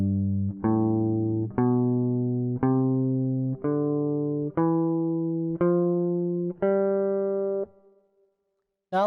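Guitar plays the G Mixolydian scale one note at a time, eight evenly spaced plucked notes rising in steady rhythm, each ringing clearly before the next, the last fading into silence.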